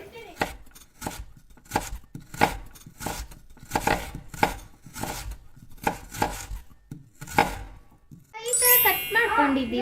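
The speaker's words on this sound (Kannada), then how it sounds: "ಮಧ್ಯ ಕಟ್ ಮಾಡಬೇಕು, ಚಾಕು ತೊಗೊಂಡ್ಬಿಟ್ಟು" A knife cuts boiled eggs into pieces on a board for egg curry, giving a regular series of about a dozen crisp chops, followed by a short burst of a voice at the end.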